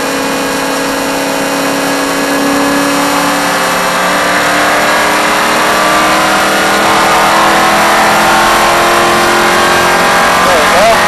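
A NASCAR race car engine accelerates steadily on track during a driving experience, a loud sustained roar with rising pitch throughout, heard close from inside the car.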